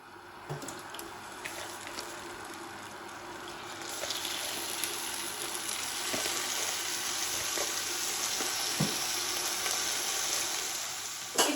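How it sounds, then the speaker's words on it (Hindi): Chicken pieces frying in a cup of oil for restaurant-style Chinese fried rice, a steady hissing sizzle that swells after a few seconds, with occasional faint clicks. "अब यहाँ पे 1 कप ऑयल डाल देंगे, फिर साथ ही चिकन डाल देंगे।"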